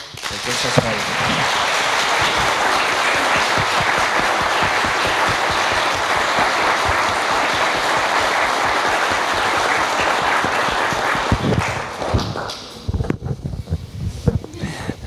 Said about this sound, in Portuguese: só queria deixar aqui então uma grande salva de palmas ao Dr.